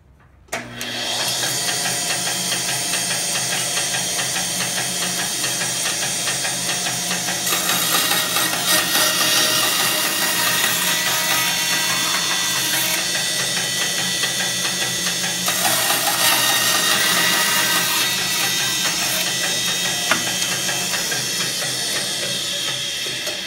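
A power saw cuts a thin 1/8 inch slice from a piece of Bacote wood, a steady, loud, whining drone that runs almost unbroken for about twenty seconds, swelling slightly in intensity twice.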